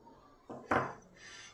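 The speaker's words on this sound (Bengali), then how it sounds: "একটা প্রেসার কুকার নিয়েছি। এই কুকারের মধ্যে প্রথমে ডিমগুলো দিয়ে দিলাম।" Eggs drop into a pressure cooker holding a little water, two quick hard knocks close by, the second louder, then quiet.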